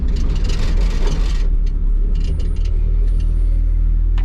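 A Toyota KE70 Corolla with a welded differential drives nearby. Its engine gives a loud, steady rumble, with a few brief higher squeaks or chirps toward the end.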